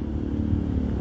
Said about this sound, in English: Oh no, it's a quad bike.